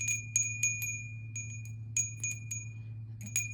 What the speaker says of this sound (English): Clear the space a little here with the bell.